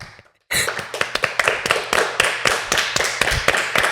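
A group of people clap their hands in a sharp, steady burst of applause that starts abruptly after a short silence and keeps up a quick, uneven rhythm of close, crisp claps.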